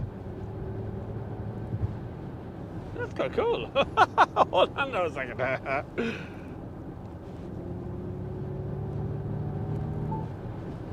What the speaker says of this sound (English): There's an engine sound, which is nice.